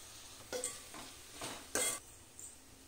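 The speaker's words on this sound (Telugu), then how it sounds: "అల్లం వెల్లుల్లి పేస్ట్ వేసుకొని పచ్చి వాసన పోయే వరకు వేయించుకోవాలి" Ginger-garlic paste frying with onions for veg pulav, stirred in a pan: a few separate scraping strokes over a faint, steady sizzle, with no talking.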